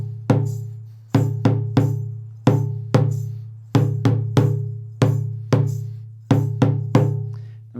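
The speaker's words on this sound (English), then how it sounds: "first up we're going to start with the sangbum part" Sangbum dundun drum part with bell in the Guinean Fakoly rhythm: deep resonant drum strokes in a steady repeating pattern, with a sharp bell-like attack on each hit, played alone and close.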